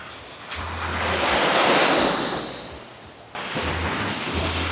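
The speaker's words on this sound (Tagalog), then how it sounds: "Ang lakas ng alon." Strong sea waves surge at Boracay beach, a loud swelling roar that builds and recedes, then breaks again, with heavy wind buffeting the microphone.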